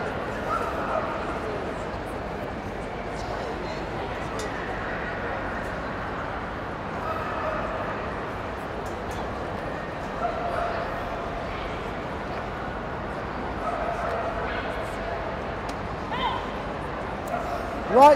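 In an indoor arena at a Crufts obedience competition, a dog yips, whimpers and barks intermittently through the large hall's hubbub while an announcer talks.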